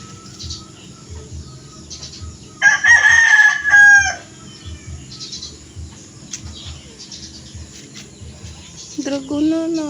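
A rooster crows once, loud and fairly close, with a long drawn-out call standing out over steady outdoor background noise and distant voices.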